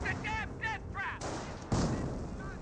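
Artillery barrage called in by a half-track in the Company of Heroes game, heavy blasts rolling over busy battle noise, a louder burst near the end, with voices heard early on.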